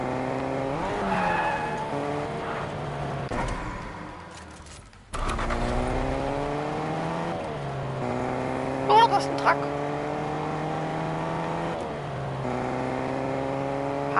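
A car in a video game revs, accelerates and skids, its engine tone repeatedly climbing and falling with tire squeals, loud and close, while a voice talks over it.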